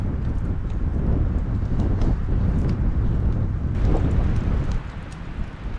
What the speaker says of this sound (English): I cannot believe that wind is still gusting like this